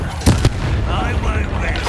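Confringo fire spell exploding in Hogwarts Legacy, two sharp booming bursts close together followed by a rumbling, crackling tail.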